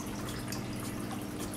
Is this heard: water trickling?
yes